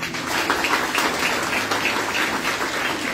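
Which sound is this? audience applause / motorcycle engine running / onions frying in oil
audience applause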